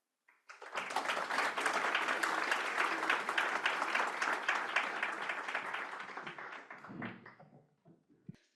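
An audience at a green finance seminar applauds its panelists: steady, full clapping that rises quickly, holds for several seconds, then thins out and fades away.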